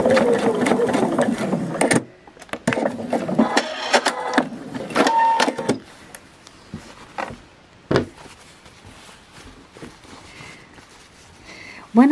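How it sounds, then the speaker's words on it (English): A sewing machine stitches quilt pieces for a star and spiked circle in bursts of rapid needle chatter, loud for the first six seconds, then quieter with scattered clicks and handling sounds. "When I stitch, and that is also an important thing when you make circles, the flat surface is always on top of your machine"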